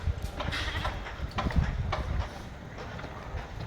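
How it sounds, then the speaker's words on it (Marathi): Goats bleat in a small pen, a few distinct calls rising over shuffling and rustling movement at close range, no one speaking. "बघा माझ्या मागे किती बकरी आहेत."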